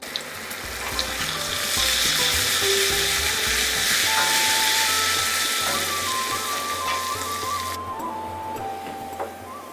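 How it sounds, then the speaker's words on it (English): Hot ghee tadka sizzles and crackles loudly and steadily in a ladle, with faint clinks of stirring, the frying hiss fading slightly near the end. "Pour that sizzling tadka straight into the curry."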